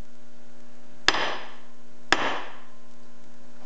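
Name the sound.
body hammer striking Miata transmission synchro spring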